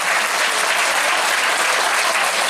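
An audience applauds members of an Okinawan eisa drum dance troupe at an outdoor seaside venue, dense steady clapping that is loud and close throughout.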